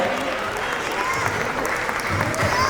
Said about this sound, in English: A big round of applause, Sushma and Sunita, please join us.